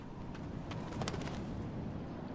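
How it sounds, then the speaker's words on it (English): Pigeons cooing in the video game Life Is Strange, repeated soft coos over a constant ambient bed, several calls in quick succession at moderate loudness, no talking. "Man, these pigeons are crazy."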